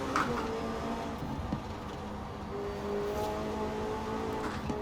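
A McLaren 600LT in Forza Horizon 4, heard from the cockpit in first person, gives a steady engine drone with shifting harmonic tones and slight revving surges. The sound stays moderate and sustained, with no one talking.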